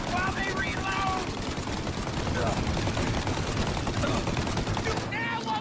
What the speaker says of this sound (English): Shoot out your gun when there's a break in the fire!